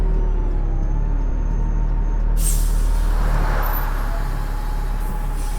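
Air brakes on a Dennis Trident bus in the bus simulator OMSI 2 (Lincolnshire map) give a loud, sudden hiss of released air that cuts in midway and then fades over steady engine and road rumble.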